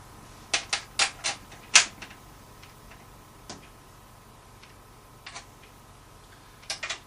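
Metallic clicks and ratchet-like ticks from a drum key turning the tension lugs of a tom tom, a quick cluster of sharp clicks early, then scattered single ticks spaced apart, close and fairly quiet with no talking.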